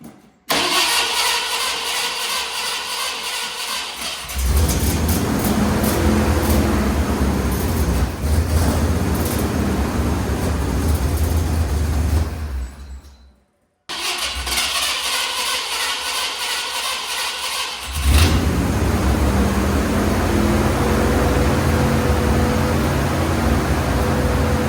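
A 1987 Ford Bronco engine cranks and then catches after a fuel line swap, its starter grinding briefly before the motor fires into a steady, loud running rumble. It cuts out for a moment, then restarts and keeps running close by with no talking.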